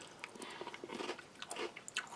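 Crisp crackers from an Italian 24-hour military ration, softened slightly by ravioli juices, crunch under close chewing and biting in a quick irregular series, with no talking.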